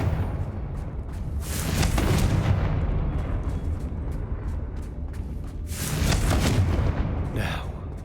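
Blasting explosions from Confringo spells in Hogwarts Legacy, two rumbling bursts a few seconds apart over a low continuous game background.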